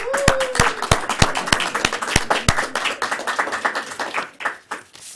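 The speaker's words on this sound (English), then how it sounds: "how about a round of applause for the new graduates who are our tomorrow?" A small group claps for new graduates at a Toastmasters club meeting, sharp distinct hand claps in a loose rhythm that thin out and soften toward the end, close and fairly loud.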